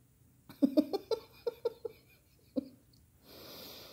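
A dog sniffs around indoors for treats, giving a close, quick run of short sharp sniffs, then a pause, one more snuffle and a soft hiss at the end.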